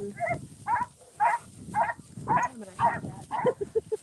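Dogs barking at an animal rescue while they are loaded out, a string of moderately loud repeated barks and yelps at a steady rhythm, fairly close.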